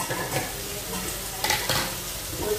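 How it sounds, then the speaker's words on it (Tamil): Vegetables for sambar sauté in a pan, a soft continuous sizzle with a few stirring scrapes and utensil clicks close by, no voices. "காய் நல்லா வதங்கிடுச்சு."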